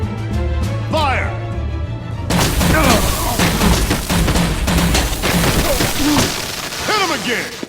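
Gunfire crackles in a Batman Telltale video game, rapid bursts and booms that continue over a mix of game sound, with voices speaking and shouting among the shots.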